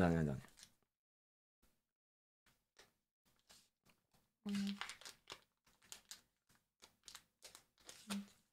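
A sealed Pokémon card product package being opened, with sparse crinkling and tearing of plastic wrap in short scattered bursts, close and fairly quiet, alongside people talking.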